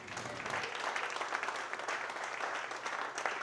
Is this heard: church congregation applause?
yes